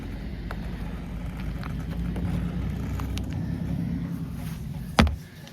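Hosim 130A ESC-powered budget RC truck running on a 4S battery, a steady motor whine and rumble held through the run, ending in a sharp bump or thump near the close.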